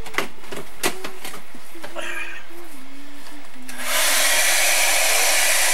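A heat tool switches on for drying a Day of the Dead art journal page, giving a loud, steady rushing blow that starts abruptly after some quieter clicks and handling sounds.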